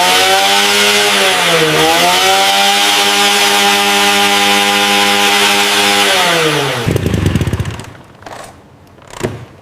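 An old Yamaha motorcycle engine runs loud and close with a steady chainsaw-like roar, dipping briefly and then holding before cutting into rough, sputtering bursts near the end.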